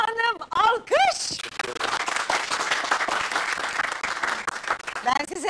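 Applause for a recovered patient hailed as a hero, breaking out after a brief voiced exclamation near the start and continuing as a dense, steady wash of clapping, with speech returning at the end.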